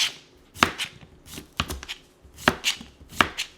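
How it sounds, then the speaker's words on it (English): Knife chopping a cucumber into halves on a cutting board, a series of about eight crisp close thunks at irregular spacing with no voices. "So I'm just gonna cut off the ends, go down the center, and then chop it into halves."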